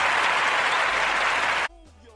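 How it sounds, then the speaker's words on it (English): An audience gives a dense round of applause, loud and sustained, that cuts off abruptly near the end, leaving faint voices and room noise. "Give a round of applause."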